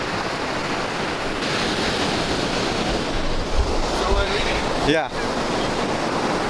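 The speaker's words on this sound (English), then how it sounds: "the sound of the waves" Ocean surf breaking on a beach where surfers ride waves, a continuous roar of waves mixed with wind buffeting the microphone, with a brief spoken word and a passing faint whine.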